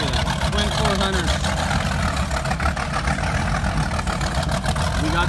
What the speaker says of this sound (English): We got the pegged idling out there.